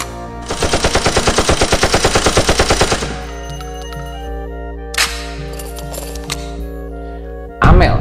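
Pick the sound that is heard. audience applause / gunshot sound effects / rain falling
gunshot sound effects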